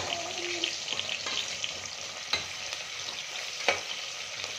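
Onion with fenugreek, marathi moggu and kalpasi fries in hot oil for a Davangere-style tomato bath, a steady close sizzle with repeated scraping stirs and a few sharper clinks.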